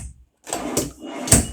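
A drawer in a 2019 Bounder 33C motorhome opens or closes with a few quick sliding rattles and clacks, close up, in short bursts separated by brief silence.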